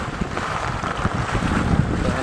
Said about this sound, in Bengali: আর ওইটা তো প্রচুর বাতাস